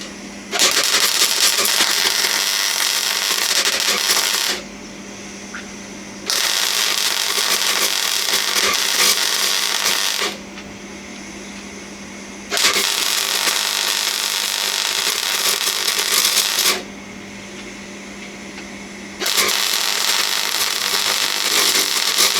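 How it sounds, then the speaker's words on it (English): Welding on an outer sill panel of a classic Mini, heard as four steady, loud crackling bursts of several seconds each, separated by short pauses. "So next step is to weld this on."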